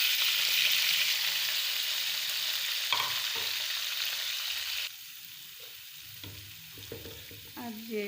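Powdered spices including salt, crushed chili, turmeric and cumin hit hot oil for sarson ka saag, making a loud sizzle that drops in level partway through, followed by scattered stirring scrapes and clinks, with no talking.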